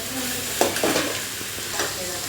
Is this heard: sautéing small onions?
yes